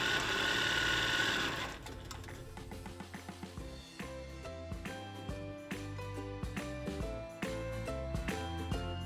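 An ACCUSTITCH-equipped home sewing machine, running with the foot pedal pressed, gives a rapid rhythmic mechanical clatter of stitching. It starts after a brief burst of other noise and continues steadily at close range.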